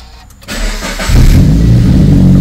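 A Subaru BRZ engine cranks and fires up after an idler pulley replacement, a sharp start followed by a loud, steady close idle.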